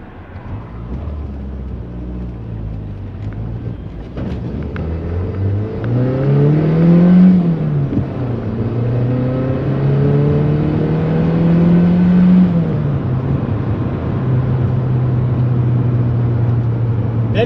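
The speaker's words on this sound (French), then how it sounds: "Belle capacité d'accélération pour cette voiture." A 1986 Citroën BX Sport engine revs up and climbs in pitch through the gears, loud and close, settling into a steady drone.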